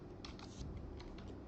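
Typing on a computer keyboard while entering router network settings: a short run of quiet, crisp key clicks in quick bursts over faint room hiss.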